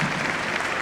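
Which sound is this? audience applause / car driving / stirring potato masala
audience applause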